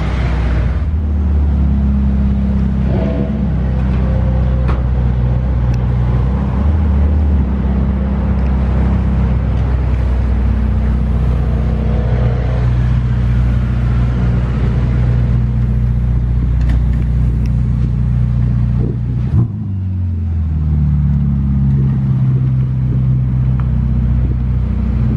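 A Ferrari SF90 Stradale on a Monaco street, its engine starting up and running as a loud, steady low rumble that carries through the whole stretch, with only a brief dip near the end.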